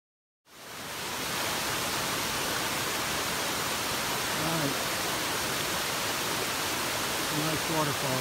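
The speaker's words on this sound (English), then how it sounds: "Waterfall here." Waterfall beside a side trail of the Appalachian Trail near Hawk Mountain Shelter in Georgia, a loud, steady broadband rush that starts abruptly and holds unbroken, with faint voices under it near the end.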